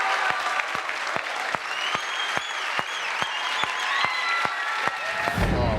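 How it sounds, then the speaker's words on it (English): Audience at a 2014 New Jersey Shout Down Drugs concert applauds contest winners, a steady round of clapping with a few sharp individual claps standing out and occasional whoops from the crowd. "Let's give a great round of applause to the winners of Shout Down Drug"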